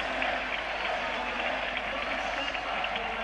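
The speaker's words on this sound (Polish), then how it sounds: "Żegnany gorącymi oklaskami przez kibiców." Football fans at a Widzew Łódź Champions League match in the 1996/97 season applaud a departing player, a steady broadband roar of distant stadium clapping and crowd noise that holds evenly throughout.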